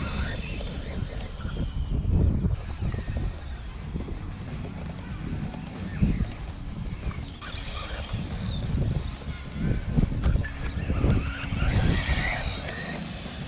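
A 6s 2WD brushless Traxxas Slash RC truck on upgraded tires drives across a grass field, with a buzzing motor whine that rises and falls, rough bumps and scuffing, close and continuous.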